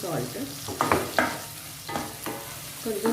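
A small amount of tomato goes into a hot pan of fried onions for a Rayalaseema uggani breakfast dish: a soft, steady sizzle runs beneath repeated scraping strokes of a spoon stirring close by.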